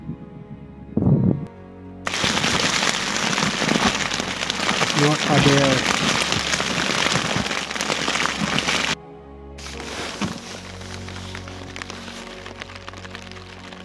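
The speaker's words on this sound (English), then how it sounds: "Just got smashed by two big rainstorms as we're coming up this hill." Heavy rainstorm drums hard and steadily on gear and surroundings while bikepacking uphill in Mongolia, loud and close, with a brief lull before it resumes; a voice speaks briefly.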